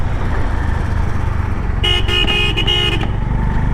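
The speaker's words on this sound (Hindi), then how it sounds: "The horn" A Honda CB350 motorcycle horn gives a bright, steady honk of about a second that stops briefly three times, heard close over a constant low engine idle rumble.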